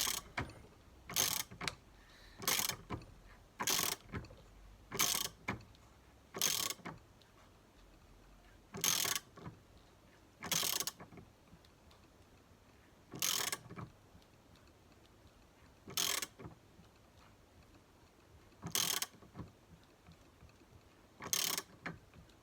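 A wrench ratchets while tightening the rear wheel bearing on an MG TF, giving short crisp clicking bursts in a steady stop-start rhythm, close up and fairly quiet, with no talking.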